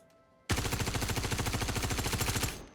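An assault rifle fires in full auto in Star Citizen after a quiet start. One steady, loud, rapid burst runs for about two seconds, each shot evenly spaced, then trails off.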